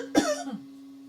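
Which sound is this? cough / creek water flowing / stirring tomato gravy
cough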